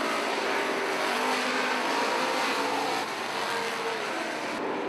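Street stock cars roar around a racing track, their engines a steady loud drone as the pack circles together, with no voices over the continuous rumble.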